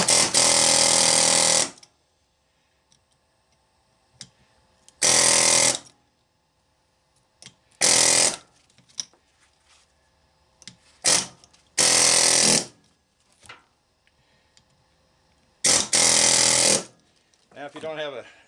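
An air chisel cuts into an electric motor being scrapped for copper and aluminum, firing in loud hammering bursts of one to two seconds separated by quiet pauses, close up, with a few small clanks between bursts.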